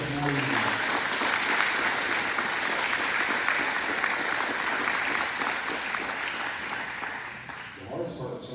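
An audience applauding, with dense sustained clapping filling the room at a steady level before tapering slightly at the end.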